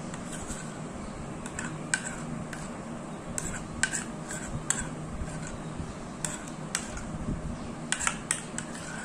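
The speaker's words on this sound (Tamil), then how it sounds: "சேர்த்து நம்ம நல்லா மிக்ஸ் பண்ணி விட்டுக்கோங்க" An egg hair pack is mixed in a bowl, giving soft wet stirring and a quiet steady scrape. Light, sharp clicks of the utensil against the bowl recur irregularly.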